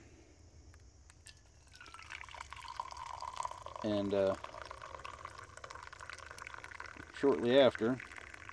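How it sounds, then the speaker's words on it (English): Coffee poured into a cup at an outdoor campfire breakfast on a damp morning, two short bursts of rising liquid gurgle a few seconds apart, with someone speaking briefly between them. "pour me a cup"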